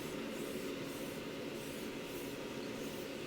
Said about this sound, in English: So you want to be close, short sprays.